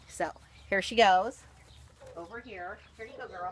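A Buff Orpington hen gives a few soft, throaty clucks close by, mixed in with a person speaking gently to her.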